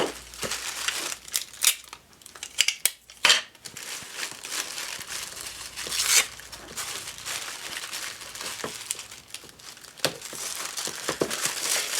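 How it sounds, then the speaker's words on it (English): Tape being pulled and pressed down onto a decorated paper happy mail envelope, close crinkling and rustling with a few sharper crackles and tearing bursts, fairly quiet with no talk. "And I'm going to tape this down."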